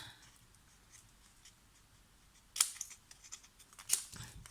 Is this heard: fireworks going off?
no